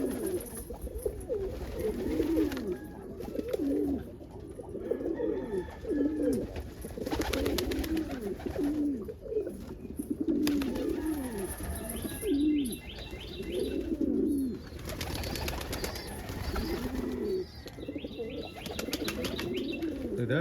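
Crested pigeons coo in a loft, repeated soft rolling calls overlapping close by, with occasional chirps and a brief flutter of wings.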